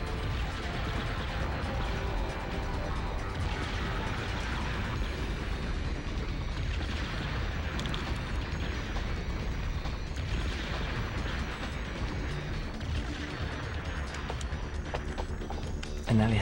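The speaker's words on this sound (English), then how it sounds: "seeing so many explosions is great" Explosions in the video game Gradius V, a dense, constant wash of blasts and pops layered under game music, with a voice commenting throughout.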